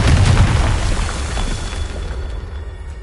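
A loud, close magical blast from the Confringo spell in a Harry Potter video game booms and then rumbles away over about three seconds.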